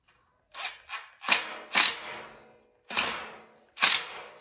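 Metal bolt being screwed onto a dumbbell weight rack: a series of sharp, close clicking and ratcheting clacks in irregular bursts, about six distinct hits separated by short pauses, with no voices.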